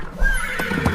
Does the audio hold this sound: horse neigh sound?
yes